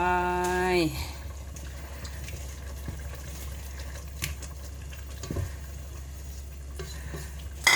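Pumpkin pieces drop into a pot of frying red beef curry and are stirred through, a sizzling, bubbling wash with scraping stirs, preceded by a brief loud splash.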